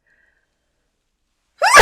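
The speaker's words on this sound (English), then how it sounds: "I have to sneeze." After a long silence, a single sharp, loud nasal burst erupts near the end, close and sudden like a sneeze.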